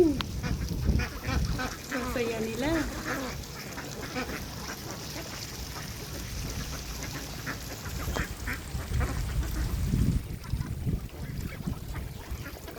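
Ducks quacking while foraging on grain in a flooded rice paddy, a cluster of nasal quacks early on, then scattered calls over a steady outdoor background with some thumping low noise.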